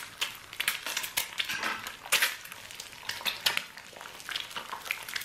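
An egg cooking in heated oil in a pan while making chicken pasta: a close, crackling sizzle with scattered clinks and scrapes of a utensil against the pan.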